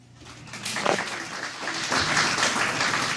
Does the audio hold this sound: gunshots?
no